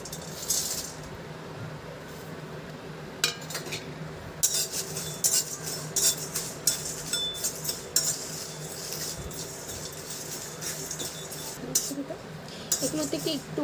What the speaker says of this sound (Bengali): এই উপকরণগুলোকে আমরা শুকনো খোলায় ভেজে নেব